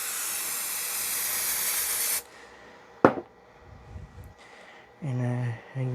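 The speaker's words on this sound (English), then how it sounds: "I spray some brake cleaner inside here." A loud continuous aerosol hiss of brake cleaner sprayed inside a removed oil pan of a 2009 Pontiac Vibe GT 2.4 for about two seconds, then a sharp clack, some handling noise, and a short tonal whine.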